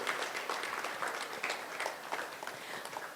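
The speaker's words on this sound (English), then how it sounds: "A round of applause as he comes." A crowd applauds a journalism award winner with dense, even clapping, a few individual claps standing out near the mic, moderately quiet and sustained without talk.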